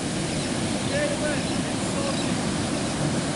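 Ocean surf rolling in at Ocean Beach in San Francisco, a steady, loud wash of breaking waves mixed with wind noise that fills the whole stretch without pause. Faint voices may sit beneath the roar.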